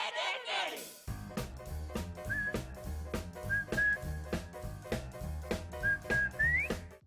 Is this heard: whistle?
yes